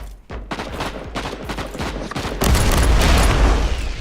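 Rapid gunfire in Warhammer 40,000: Inquisitor – Martyr from a Plague Vanguard assault gunner, with sharp separate shots at first that build into a dense, loud sustained burst during the last half.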